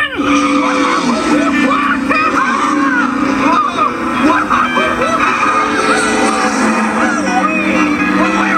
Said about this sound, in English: So let's take this hot rod out for a test spin.